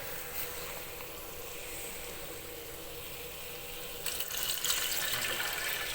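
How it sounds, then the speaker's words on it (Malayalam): Water poured into a pot of rice with spices for tomato lemon rice: a soft, faint liquid rush that swells louder and brighter near the end, with no talk. "നമുക്ക് ഇതിലേക്ക് വെള്ളം ഒഴിക്കാം."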